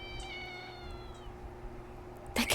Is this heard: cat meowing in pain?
yes